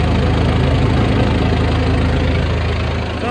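A John Deere 4045 Tier III diesel engine idles with a steady, loud, low rumble and a continuous drone, close by, with the idle slowly sagging and no talk over it.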